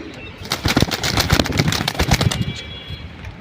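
Pigeons cooing and fluttering close by, a dense stretch of soft repeated calls with no talking.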